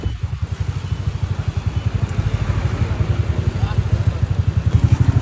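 A Yamaha NMAX B2 motor scooter engine runs steadily during a test ride, a close, rapid, even putter that builds slightly in loudness, with a voice briefly heard over it.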